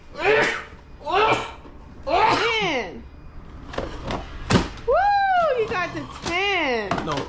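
Several sharp sneezes burst out one after another, close and loud, with brief talking mixed between them.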